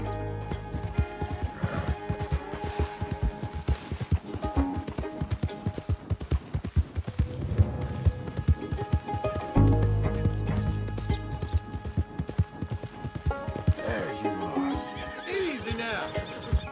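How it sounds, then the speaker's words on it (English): A horse in Red Dead Redemption 2 gallops with rapid, rhythmic hoofbeats and gives several loud whinnies, its hooves continuing steadily throughout while a voice speaks in places. "My horse ran away!"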